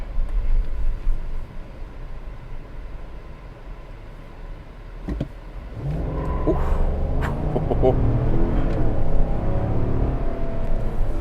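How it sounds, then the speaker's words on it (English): A 2021 Chevy Tahoe High Country with a 6.2-liter engine and 10-speed automatic cruises with a low cabin rumble, then the engine note swells and climbs steadily under acceleration. "I'm gonna do a slight acceleration run really quick."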